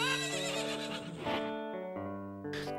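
A horse whinnies in the video game Zelda: Ocarina of Time (GameCube Master Quest), a loud, close, shaky neigh with a falling pitch, with no talking.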